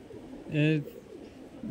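A Pagla line beater pigeon gives a single short, low coo up close, with quiet talk around it.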